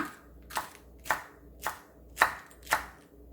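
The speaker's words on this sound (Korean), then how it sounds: "청양고추하고 홍고추 송송송송 썰어줍니다." Green Cheongyang chilies and red chilies are sliced on a cutting board in six crisp knife knocks, evenly spaced about half a second apart. The strokes are close and fairly quiet against a hushed background, with no voices.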